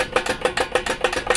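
A loose old-style Bach ball-and-socket valve linkage clanks rapidly, with about seven sharp, close metallic knocks in quick, regular succession.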